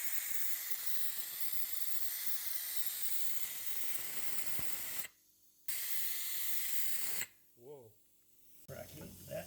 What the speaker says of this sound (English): I've got compressed air to extract it all from there.